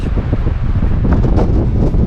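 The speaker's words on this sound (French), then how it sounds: "d'un coup, le vent il se lève" Wind rising outdoors in a Provençal village, a steady broadband rush buffeting the microphone for about two seconds with no talking.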